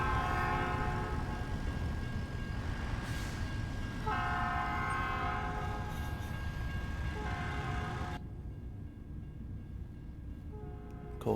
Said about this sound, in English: Train about to come by.